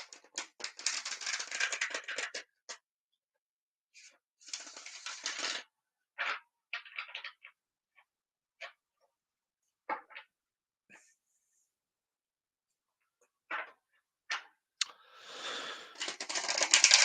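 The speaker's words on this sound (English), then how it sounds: "I just find it quite therapeutic sitting shuffling cards" Close, crisp riffling bursts of playing cards being shuffled, coming in irregular spurts with quiet gaps between them; no one speaks.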